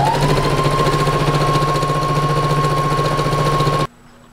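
A sewing machine stitching along the edge of a fabric bow, a loud, close, steady motor hum with rapid needle rattle that runs continuously and then stops abruptly.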